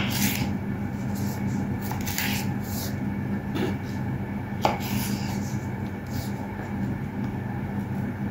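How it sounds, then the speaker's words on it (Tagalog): Vegetables chopped small with a knife on a cutting board for a bean salad, sounding as scattered, fairly faint taps over steady background noise. "Ngayon, hiwain din natin ng maliliit."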